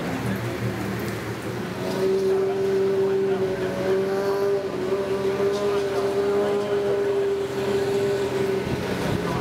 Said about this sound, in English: we're going for the skid pan now. We're going to start skidding around.